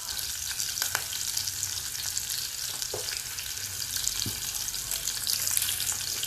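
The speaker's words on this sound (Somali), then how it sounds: "waxaan sugeynaa inta basasha wax yar nooga soo shiilmayso" Chopped onion frying in hot oil in a pan for a rice and meat dish, a steady, close sizzle with a few soft stirring clicks and scrapes, no talking.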